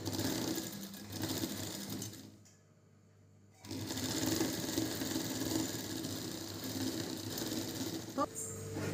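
A sewing machine stitches a brassiere at a tailoring class, its motor humming steadily up close, stopping for about a second midway and then starting again, with a voice talking over it.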